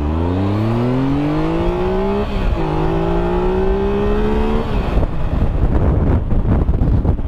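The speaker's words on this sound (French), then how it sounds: "Petit départ arrêté de 0 à 100," A 2017 Triumph Explorer XCx motorcycle engine revs up hard from a standstill, climbing in pitch through a gear change before roaring on with wind buffeting the microphone.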